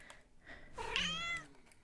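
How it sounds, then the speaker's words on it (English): A house cat meows once in a drawn-out, rising and falling call, fairly close and clear against a quiet room. "They meowed at you, honey."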